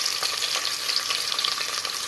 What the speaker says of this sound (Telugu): అందులోనే ఉల్లిపాయలు ఇట్లా వేసుకున్నాను కదా, పచ్చిమిర్చి, ఉల్లిపాయలు వేసేసుకోవాలి